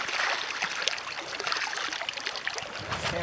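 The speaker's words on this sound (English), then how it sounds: "Rinse the net." A sampling net is rinsed in the Big Hole River in Montana, a soft close splashing and trickling of water that sloshes irregularly for a few seconds with no talk.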